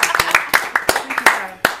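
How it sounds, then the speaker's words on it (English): A small group on an antiques gameshow New Year special gives a round of applause, a brief scattering of distinct, close hand claps with uneven rhythm. "Give her a round of applause."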